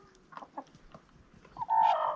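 Chickens cluck in short bursts, then one bird lets out a louder, sustained squawk toward the end; nearby and fairly clear, with no talking.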